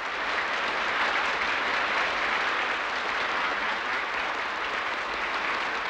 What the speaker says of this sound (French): Il est applaudi à tout rompre, plus que Staline lui-même.